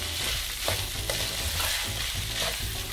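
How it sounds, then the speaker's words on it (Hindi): Onions frying with minced meat (keema) in a pan, a steady loud sizzle broken by the repeated scrape of a spoon being stirred through, with no talking. "और साथ ही मैं इसमें प्याज डाल दूँगी भून लेंगे"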